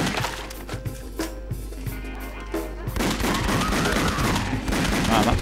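Rapid gunfire in House of the Dead Overkill, a quick string of sharp shots that grows denser and louder into a continuous volley.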